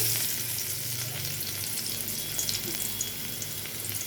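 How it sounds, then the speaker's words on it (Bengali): Garlic frying in hot mustard oil in a wok, a steady close sizzle with light crackling and occasional stirring scrapes throughout, no talking. "এখানে কড়াইতে সরষের তেল গরম হয়ে গেছে, এখানে দিয়ে দিচ্ছি রসুন"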